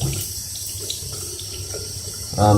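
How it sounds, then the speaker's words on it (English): Tap water running steadily into a sink while gel is washed out of a doll's hair: a continuous close hiss and splash with no talking, swelling slightly louder at the very end. "I am going to gently wash out the gel"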